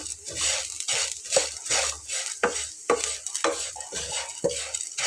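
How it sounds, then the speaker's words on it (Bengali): Crisp fried flattened rice (chira) in a little oil is stirred around a pan with a utensil, making rhythmic scraping strokes over a soft sizzle, close and continuous. "তো হালকা একটু নেড়ে চেড়ে মিলিয়ে নেব।"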